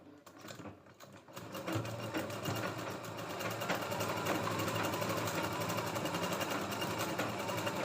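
Sewing machine stitching the shoulder of a katori blouse, a steady fast whirring rattle that starts after a brief pause and runs continuously, close and loud, with no talking.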